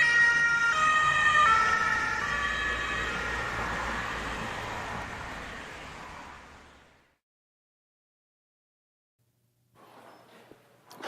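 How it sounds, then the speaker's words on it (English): An ambulance siren wails loudly, its pitch falling as it passes and fades away over several seconds, followed by silence and then faint rumbling. "when the ambulance approaches and then departs, an observer will hear the siren shift from a high pitch"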